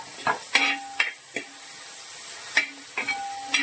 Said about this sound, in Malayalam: ഉപ്പ് കൂടി നമ്മൾ ചേർത്ത് കൊടുക്കുമ്പോൾ നമ്മുടെ ഈ ഉള്ളി വേഗം ഒന്ന് വഴണ്ട് വരും